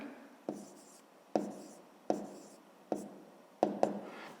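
A pen writes answers to a fifth-grade math exercise on paper, making five or six short, sharp strokes at a steady rhythm, each a close dry scratch followed by a brief fade.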